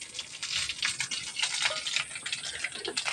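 Five-spice seeds dropped into hot mustard oil crackle and sizzle steadily and close by for a few seconds while tamarind pickle is being made, with no talking over it.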